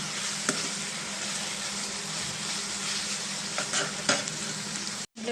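Ginger garlic paste frying in a pan with onions, a steady close sizzle with occasional stirring scrapes and small pops, continuous and even, with no talking over it.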